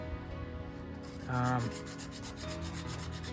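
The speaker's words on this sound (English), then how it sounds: "since I'm sanding it down, I'll just hit some of these spots." Soft, steady rubbing of 600 grit sandpaper against a statue's surface, light repetitive strokes close by, with a brief tonal hum midway.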